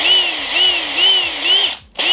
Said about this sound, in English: And if you use the drill, full power, baby, dang.